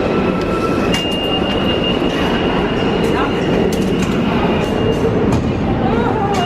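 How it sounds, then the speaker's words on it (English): A New York City subway train rumbles along with a loud, constant roar, a high tonal whine, and occasional metallic squeals and clicks from the wheels, heard from inside the car with some voices in the background. "It's only a couple of stops, but we thought it'd be worth it just to go on the subway."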